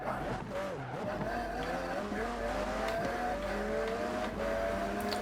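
A McLaren MP4-12C in Forza Horizon 4 brakes hard, tires squealing in wavering high tones over a steady engine drone that lasts throughout, fairly close and continuous.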